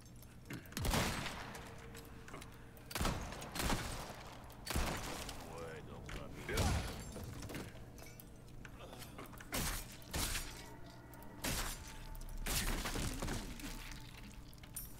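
Sharp gunshots in the Resident Evil 4 Remake game ring out one at a time at irregular intervals of a second or two, loud and close, with quieter mechanical clatter and a voice speaking between them.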